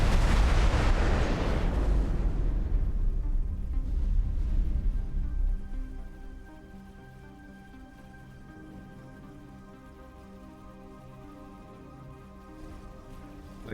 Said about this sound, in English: Oh, there's another K behind us. Explosion imminent.